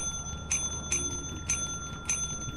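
A small bell in Lethal Company rings in four evenly spaced bright dings, clear and close over a low steady hum, with no talk.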